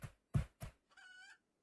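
A rooster in the colony-building game RimWorld gives a short, thin crow after a few sharp, thumping impacts, all brief and fairly faint against a quiet background.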